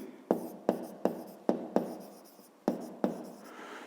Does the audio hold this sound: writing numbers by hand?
yes